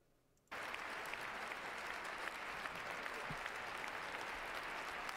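A large crowd bursts into sustained, loud applause in a standing ovation during Donald Trump's inauguration speech, beginning abruptly after a brief quiet and holding steady and dense throughout.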